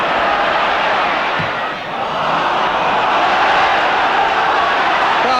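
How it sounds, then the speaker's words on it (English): Football crowd at a Liverpool v Spurs match roaring and shouting for a corner, a broad sustained wash of massed voices that dips briefly and then swells again. "Crowd wanting a corner"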